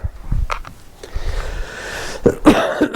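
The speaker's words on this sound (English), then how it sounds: "Excuse me, still got my cough." A few sharp, close coughs, one in the middle and a harsher burst near the end, with a rustle of movement between.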